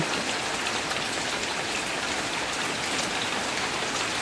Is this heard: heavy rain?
yes